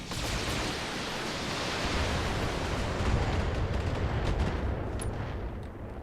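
Mech weapons fire in a BattleTech multiplayer match against Centurions: a dense, loud roar of rapid gunfire and blasts that swells and fades over several seconds.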